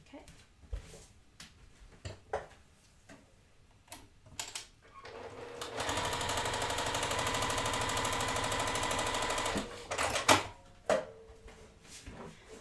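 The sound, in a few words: sewing machine sewing quilt seam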